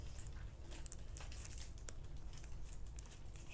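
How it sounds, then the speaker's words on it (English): Plastic blind bag packaging crinkles and rustles steadily as scissors cut it open up close, with short crisp snips and tearing through the crackle and no talk. "So we're gonna cut this open."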